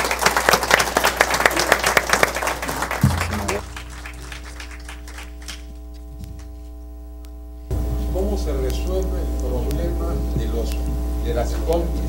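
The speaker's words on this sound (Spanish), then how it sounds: "Un aplauso para ellos, por favor." Audience applause after a diploma presentation to an engineer at a formal hearing, a burst of clapping that drops away and returns beneath a strong, constant electrical hum from the sound system.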